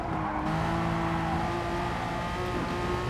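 A Porsche racing around the Nurburgring in a driving video game, a loud sustained engine drone with steady tonal whine and tire noise, continuous and close for about three seconds.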